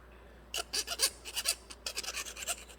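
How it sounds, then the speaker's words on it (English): A metal hand file rasps across the reamed end of a nickel-copper brake line, deburring it in a series of short, close strokes in irregular rhythm, fairly quiet and with no talk. "I'm going to file it"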